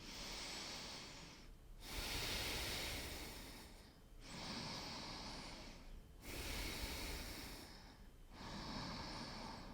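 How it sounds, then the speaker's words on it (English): Slow, deep breaths during a yoga gate pose side stretch, each long inhale and exhale hissing close to the mic in a steady rhythm of about two full breath cycles, with no talking. "2 deep breaths here."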